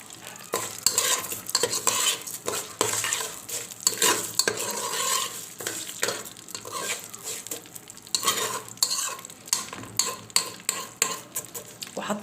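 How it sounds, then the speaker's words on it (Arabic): Vermicelli fries in two spoons of oil in a pot before rice is added, giving a loud close sizzle with frequent rapid metal spoon scrapes and clinks as it is stirred. "انا هحمر الشعريه"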